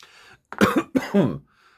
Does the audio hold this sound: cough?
yes